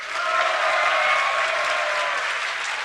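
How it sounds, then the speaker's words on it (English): A StarCraft 2 tournament crowd at the DreamHack Summer semifinals bursts into loud, sustained applause and cheering, a dense wash of clapping that holds steady for the whole stretch. "give a cheer for StarTale's Bomber"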